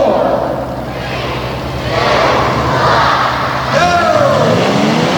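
Modified trucks at a Tuff Trucks race in Harrisburg rumble and rev together off the start, a loud continuous engine roar with rising pitch sweeps near the end, crowd noise blended underneath.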